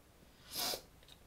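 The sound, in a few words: sniffing with a cold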